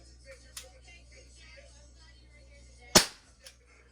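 A semi-automatic BB gun is fired at a homemade target, giving one sharp, loud crack near the three-second mark. A faint tick comes earlier, and only a quiet background hum sits around the shot.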